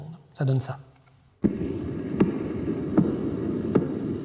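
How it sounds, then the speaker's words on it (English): A pulsar in the Giraffe constellation, spinning once every two-thirds of a second, rendered as sound: a steady hissing rumble marked by regular soft ticks about three-quarters of a second apart, after a brief voice at the start. "The pulsar that we're going to hear, which is in the Giraffe constellation, spins around every 2/3 of a second."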